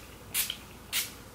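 A watermelon face mist spray gives two short, soft hissing spritzes about half a second apart, close and fairly quiet.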